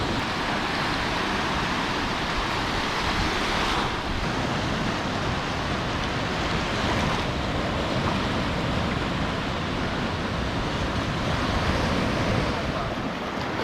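Surf rolls steadily onto a beach on the Dominican Republic's north coast, a loud, continuous wash of breaking waves mixed with wind buffeting the microphone, with no voices.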